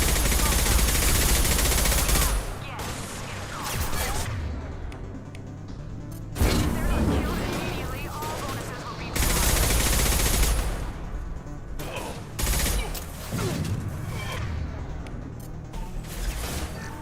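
Bursts of heavy automatic gunfire from a Krogan in the video game Mass Effect 2, loud sustained volleys broken by short pauses, with impacts and a voice speaking over the combat.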